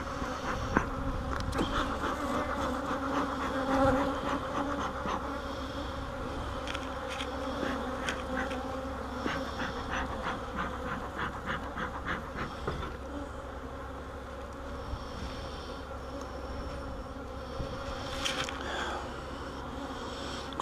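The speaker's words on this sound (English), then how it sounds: "there's a bunch of bees in here though" Honey bees swarm and buzz steadily inside an open hive during a queen-cell check and split, a dense, continuous hum that stays close and loud throughout.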